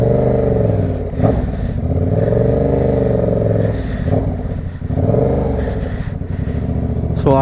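A Yamaha R7 motorcycle's engine revs loudly and up close, climbing and dropping in pitch through several repeated throttle blips over a steady idle, with a sharp clatter near the end.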